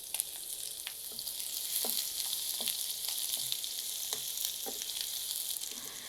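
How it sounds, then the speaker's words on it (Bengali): A large chopped local onion fries in oil in a pan, giving a steady bright sizzle with scattered soft clicks and scrapes of occasional stirring, fairly close and alone. "পেঁয়াজটা আমি একটু ভালো করে ভেজে নিব।"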